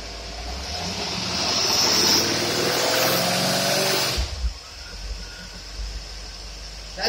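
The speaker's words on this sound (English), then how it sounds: "The loud noise you hear is our two electric fans and the water pump." Two electric cooling fans and a water pump on an engine dyno drone loudly with a broad steady roar, which cuts off abruptly partway through, leaving a quieter engine idling at about 725 RPM on a Quick Fuel four-corner-idle carburetor.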